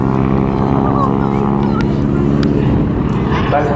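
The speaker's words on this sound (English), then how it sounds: "The propellers are flying so fast that they actually break the sound barrier" Radial-engine aircraft at the Southport Airshow make a loud, continuous, close propeller drone with a steady throbbing hum, and a voice talks over it.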